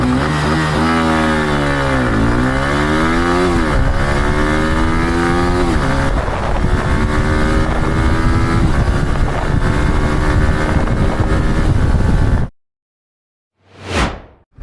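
A Yamaha R15 V4 motorcycle with a quick shifter accelerates hard from standstill toward 100 km/h, its loud, close engine climbing through repeated rising revs and gear changes, then cutting off abruptly, followed by a brief whoosh.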